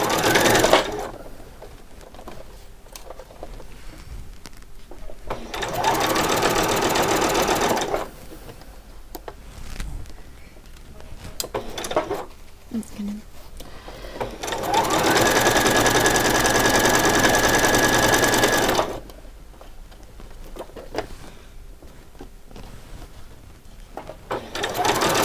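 A sewing machine stitches a doll's coat in several long, steady runs of rapid mechanical whirring, separated by quieter pauses filled with fabric handling and small clicks.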